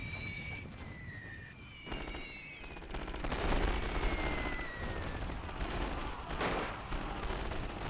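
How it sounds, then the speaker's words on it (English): Submachine-gun infantry fire in a First World War battle game: dense, continuous crackling volleys of gunfire, mid-distance. It swells and recedes under a loud battlefield din, with faint whistling sounds overhead. "So we've got the SMG infantry firing into the ranks of the conscripts."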